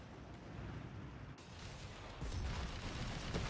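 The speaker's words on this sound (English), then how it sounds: "Wind getting hit by double anti-tank guns again here." Anti-tank guns boom in a Company of Heroes 3 battle, a dense roar of artillery-like blasts that jumps louder partway through over a constant rumbling battlefield backdrop.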